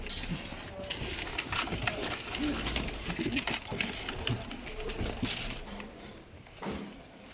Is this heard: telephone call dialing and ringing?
no